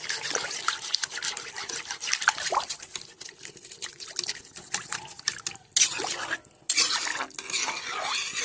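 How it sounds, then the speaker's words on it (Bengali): Water poured into a pot of potato dal, a steady splashing trickle with stirring and clinks of the pot, fairly faint, with a couple of louder gushes near the end. "এবার আমি পরিমাণ মতো এর মধ্যে জল দিয়ে দেবো"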